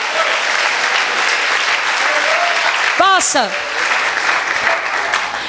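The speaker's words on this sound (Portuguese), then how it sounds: "Você pode aplaudir?" Church congregation applauding during a sermon: steady, dense clapping fills the whole stretch, with a brief voice calling out over it near the middle.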